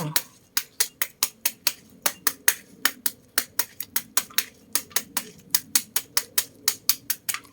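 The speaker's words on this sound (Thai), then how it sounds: "สับง่ายๆค่ะ ทุกคนก็หั่นเป็นท่อนๆจ้ะ" A knife chops cucumber into chunks for a Thai-style pounded cucumber salad with rice noodles, giving a fast, steady run of sharp close knocks on a board, roughly three per second, with no talk over it.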